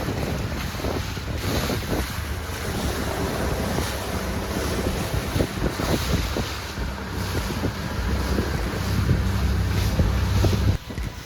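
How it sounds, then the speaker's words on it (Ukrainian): A small rented boat rides over sea waves off Corfu, Greece, with continuous rushing water, slapping hull hits and heavy wind buffeting the microphone, loud and steady for about eleven seconds with no talking. "дуже важко ловити цю хвилю, щоб човен справді їхав е, без хитання"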